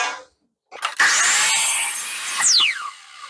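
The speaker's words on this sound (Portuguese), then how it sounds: "E efetuei o corte." A telescopic miter saw fitted with a zero clearance insert spins up and cuts through wood, a loud whining buzz that rises through the cut and then winds down with a falling pitch.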